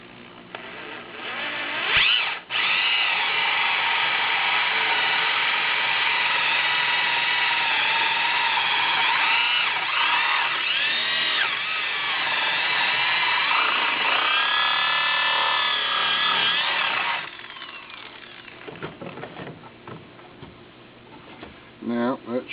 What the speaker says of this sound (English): So take my little drill here.